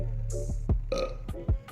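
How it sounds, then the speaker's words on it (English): A man burps several times in quick succession, loud and close, with short deep gurgling bursts between breaths and no talking. "I'm burping, y'all."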